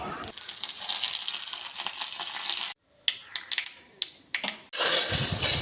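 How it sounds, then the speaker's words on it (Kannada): Curry leaves tempering in hot oil for a homemade sambar: a steady, close sizzle breaks off briefly, then crackles back in sharp sputtering bursts before a loud, full hiss returns. "ಈಗ ಕರಿಬೇವಿನ ಒಂದು ಒಗ್ಗರಣೆ ಹಾಕುವ"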